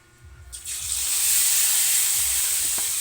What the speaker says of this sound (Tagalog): Prito lang muna tayo ng isda.